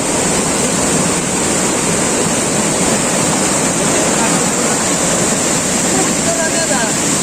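Floodwater rushing across a field after heavy rain, a loud, steady broadband roar of flowing water with wind buffeting the microphone throughout.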